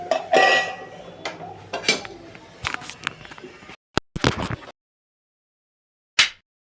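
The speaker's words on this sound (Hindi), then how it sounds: "अब मैं धो लेती हूँ बर्तन।" Dishes, pots and utensils being washed at home: clattering, knocking metal and ceramic clinks with splashes and scraping in uneven bursts, then near silence with one last sharp clink.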